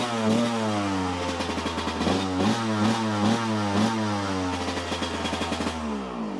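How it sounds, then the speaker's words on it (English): A motorcycle engine with a touchy throttle idles a little high close by with a chugging rumble, then revs up in a series of quick throttle blips before settling back. "Touchy throttle on this bike."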